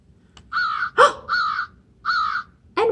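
Several loud, harsh caw-like squawks in short bursts from a toy blackbird, close and alone, with a brief higher squeak at the end.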